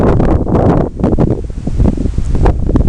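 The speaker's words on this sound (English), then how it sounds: "you can hear the wind blowing through the trees" Wind sweeps through trees in green countryside, a loud, continuous rustling roar with gusty swells and heavy buffeting on the microphone.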